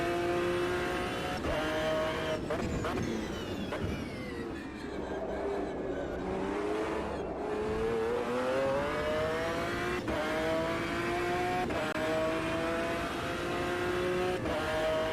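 A race car engine in the racing video game Automobilista 2 revs hard and climbs through several upshifts, each gear change dropping the pitch before it screams up again, loud and continuous.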